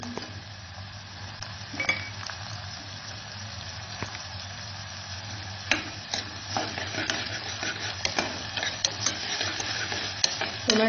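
Tomato and onion sauté in a pan with a soft, steady sizzle as a spoon stirs and clinks against the metal, scraping strokes growing busier and sharper toward the end; close and fairly quiet, no speech.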